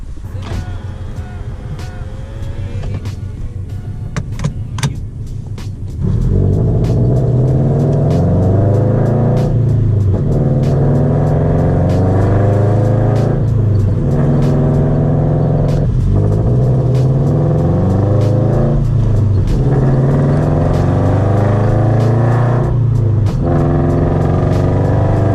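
A Toyota FRS on the road from the driver's seat, its engine giving a steady low rumbling hum with slowly shifting tone as it drives along, without talk.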